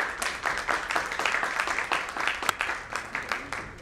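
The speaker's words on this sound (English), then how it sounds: "Can I have a big round of applause for Ms. Kavita?" Audience applause at a panel session of a data and cyber-risk conference in Mumbai, a room of hands clapping in a brisk, uneven patter with audible individual claps, steady for several seconds at moderate loudness.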